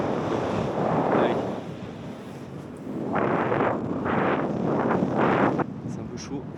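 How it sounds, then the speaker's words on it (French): Mountain wind buffeting a microphone at Salève, loud roaring gusts that swell and fade in several waves over steady rushing noise, with a voice faintly speaking underneath. "Le vent il vient de face"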